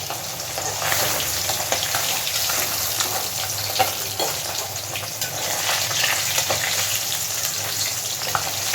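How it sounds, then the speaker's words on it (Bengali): Pieces of katla fish sizzle and crackle steadily while frying in hot oil, a dense, continuous hiss close by that lasts throughout with no talk. "বাকি মাছগুলোকেও আমি এইভাবে সবকটা ভেজে নেব।"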